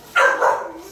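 A black lab puppy at an animal shelter gives one short, loud bark-yelp that tails into a softer whine, close by and alone.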